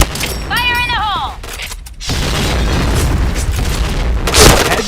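Grenade blast in the Point Blank video game, a loud booming explosion with rumbling aftermath, preceded by a brief synthesized voice callout and followed by more heavy gunfire-like impacts.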